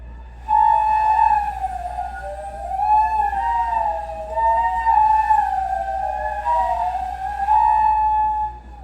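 A flute-like tone glides up and down in slow, wavering siren sweeps, steady and fairly loud over a low hum.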